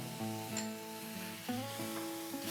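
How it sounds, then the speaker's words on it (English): Chopped tomatoes fry with garlic paste in a pan, giving a soft, steady sizzle with occasional stirring scrapes, quiet and close, under a sustained tonal background of music. "let's fry this till the tomatoes are soft and mushy"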